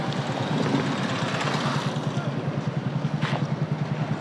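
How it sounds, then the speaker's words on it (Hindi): A vehicle engine rumbles steadily along a hot roadside during a hitchhiking trip in India, with a low, pulsing throb that grows more regular toward the end and no talk over it. "और दूसरा गाड़ी आ रहा है उधर से।"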